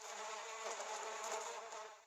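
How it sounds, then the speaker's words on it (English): Buzzing of a bee in a cartoon, a steady continuous drone with a bright, wavering tone held for about two seconds, moderately faint and alone before tapering off. "Then Norman joined in with buzzing practice"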